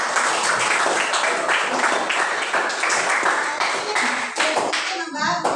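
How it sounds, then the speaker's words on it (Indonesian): Students clap in a classroom, a busy, close burst of many hands that runs several seconds before breaking off, with voices mixing in toward the end. "Oke, tepuk tangan untuk"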